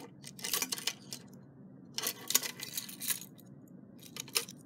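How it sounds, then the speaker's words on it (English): An FVOK1 elevator key is tried in the lock of an Innovation security panel, giving bursts of small metallic jingling and clicking close by, in several clusters with short pauses between them. "I've always wanted to try using the FVOK1 key on it and see if it works"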